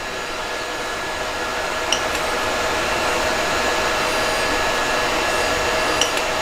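A Geeetech A10T 3D printer runs with its fan spinning, giving a steady, fairly quiet whirring hum with two faint clicks.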